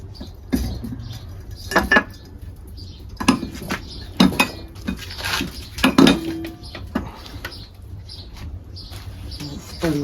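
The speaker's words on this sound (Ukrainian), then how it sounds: "сюди ми будемо нанизувати наше м'ясо" Sharp metallic clinks and scrapes as meat is threaded onto a metal tandoor rack, in irregular bursts, close and clear, with quiet gaps between them.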